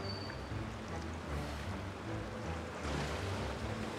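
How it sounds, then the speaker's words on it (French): A waterfall in the video game Genshin Impact rushes with a steady, dense whoosh of falling water, swelling slightly toward the end, with no voices. "Je vais aller derrière la cascade."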